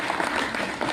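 An audience at a talk claps and applauds loudly and steadily throughout, a dense wash of hands with no voices standing out.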